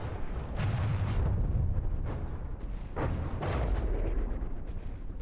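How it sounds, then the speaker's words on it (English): Bombs falling and bursting in the naval combat game From the Depths, heard as a run of heavy, rumbling booms and blasts layered over a continuous low roar. "here we had a fall of bombs going on there"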